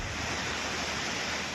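Floodwater waves surge in Uttarakhand as a steady, loud, broadband roar of rushing water with no breaks.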